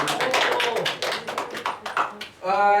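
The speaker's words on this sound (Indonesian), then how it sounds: "Kasih tepuk tangan dulu dong." Audience clapping at a community talk on gotong royong work to prevent flooding, a small group producing dense, close handclaps for about two seconds before a voice begins speaking.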